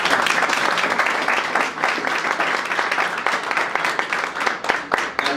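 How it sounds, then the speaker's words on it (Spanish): Audience applause at a Partido del Trabajo youth event in Mexico City: a dense, steady burst of many hands clapping together, loud and sustained for the whole stretch with slight swells. "para quien pido un fuerte aplauso."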